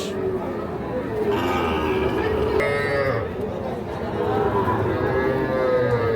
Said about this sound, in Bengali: এটা ছয় দাঁত বয়সের গাভী